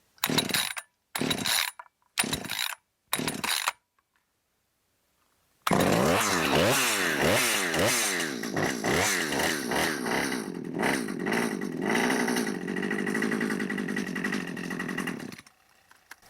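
Husqvarna 545 chainsaw under repair, a few short bursts and a pause, then the engine catches and runs steadily for about ten seconds with the throttle held, revving up and down, loud and close before cutting off.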